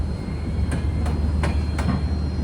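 Humsafar Express rolls into New Haflong railway station in the hills, a steady low rumble of the train with evenly spaced sharp wheel clacks over rail joints, close and loud, no voices.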